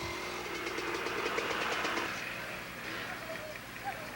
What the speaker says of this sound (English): everybody's getting their bike warmed up and getting over to the starting line